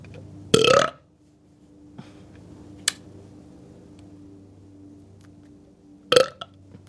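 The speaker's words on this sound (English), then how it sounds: "Super small burp." A short, small burp stands out near the start amid quiet room tone, followed by a few faint ticks and a second brief burst near the end; no talking.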